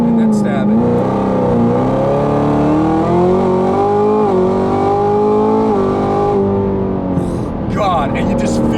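A 2017 Chevrolet Camaro ZL1 making about 1000 wheel horsepower launches and pulls hard, its engine note rising in a long, loud, steady sweep that nearly fills the whole stretch, dipping briefly near the end.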